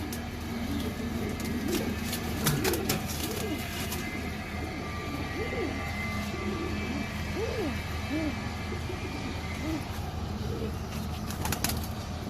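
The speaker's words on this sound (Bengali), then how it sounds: "হ্যাঁ এই যে কবুতর দেখেন মাশাআল্লাহ" Pigeons coo repeatedly in a loft, soft rounded calls recurring throughout over a steady background hum, with brief clicks and rustles near the start.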